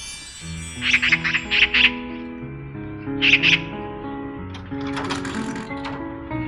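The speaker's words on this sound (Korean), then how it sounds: "저 새가 무슨 새냐? 까치요." Magpie calls from a short film about an elderly father and his son, several bright chattering bursts in short clusters over soft background music, fairly close and clear.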